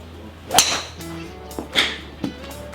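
Golf driver heads strike balls during a fitting session: several sharp, loud cracks spaced about a second apart, each a crisp impact with a brief ringing tail, with no talk over them.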